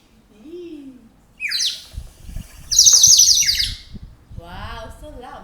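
Shrill chirping bursts from a toy bird whistle, one short blast and then a longer loud warble, with voices talking underneath and after.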